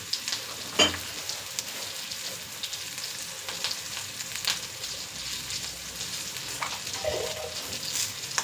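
Fresh curry leaves crackle and sizzle in hot oil, a steady loud frying hiss with a few sharp pops, close by and with no voices.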